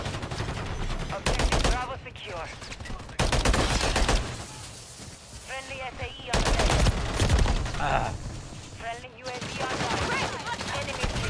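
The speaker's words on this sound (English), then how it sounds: "I'm shooting him in the upper part." Loud bursts of automatic gunfire and rapid shots from the video game Call of Duty MW3 ranked multiplayer, coming in long dense volleys with brief pauses between them, with game sounds and a voice mixed in.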